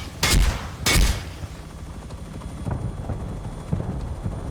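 Rockets fired from a helicopter in the game Rust: two loud whooshing blasts close together at the start, then a steady low rotor rumble with faint distant thuds.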